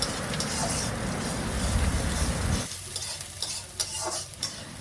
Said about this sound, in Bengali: পেঁয়াজটা আমি ব্রাউন কালার করে ভেজে নেব।